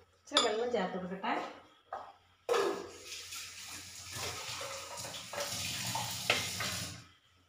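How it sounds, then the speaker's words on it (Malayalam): Water is added to a pan of ginger and papaya curry, with clanks of a metal pan and utensils up close, followed by a longer stretch of steady pouring and splashing. "ഇച്ചിരി വെള്ളം ചേർത്ത് കൊടുക്കട്ടെ."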